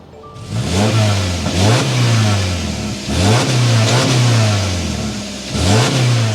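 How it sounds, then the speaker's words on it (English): A 2024 Subaru Impreza Sport starts up and its engine is revved repeatedly, loud, close exhaust notes rising and falling in several sharp bursts over a running idle. "start it up, so you can hear that exhaust note"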